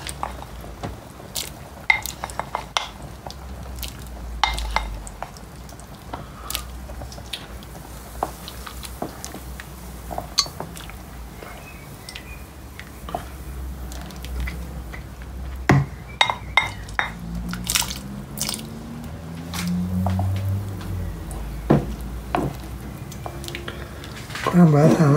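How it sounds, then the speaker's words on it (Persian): Fava beans are tipped into a pot of boiling rice, giving scattered soft splashes, drips and small clatters over a low bubbling simmer, fairly quiet and close with no talking. "وقتی که جوش اومد درست موقع اینه که ما باقالی رو بهش اضافه بکنیم."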